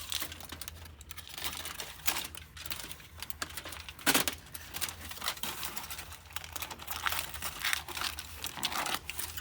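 A piece of aluminum foil handled and crinkled by hand, making irregular crackling and rustling bursts at close range, fairly quiet and without talk.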